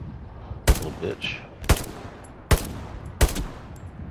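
Four sharp, close pistol shots in the World War II shooter Hell Let Loose, fired at a steady unhurried pace, with a man briefly muttering between them.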